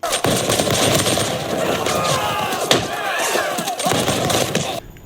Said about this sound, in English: Garrison will fire 5 shots as they come on in.